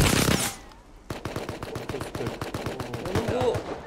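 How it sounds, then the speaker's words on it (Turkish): Gunfire in the survival game Rust aimed at the player: a burst of noise at the start, then a fast run of sharp, evenly spaced shots, loud and continuing to the end. "Tam bana sıkıyorlar şimdi."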